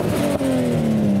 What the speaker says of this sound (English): There's a few noisy motor vehicles entering the meet today.